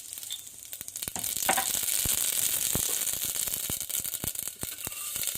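Mustard seeds sizzling and popping in hot cooking oil in a pan, a close crackling hiss with sharp irregular pops throughout.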